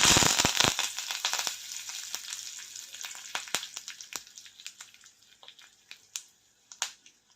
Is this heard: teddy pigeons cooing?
no